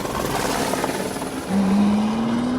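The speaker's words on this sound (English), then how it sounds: "our jet helicopter with our camera can fly only 170 miles an hour" A jet helicopter carrying a camera, flying nearby: a steady rotor and turbine drone that swells louder midway as a rising engine tone comes in, no speech.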